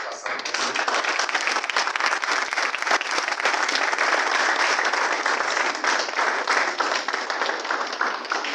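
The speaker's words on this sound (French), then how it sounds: "raccompagner Monsieur le maire sous un tonnerre d'applaudissements" A large audience gives a mayor a long, dense burst of applause, many hands clapping loudly and steadily from start to finish, with no break in the clapping.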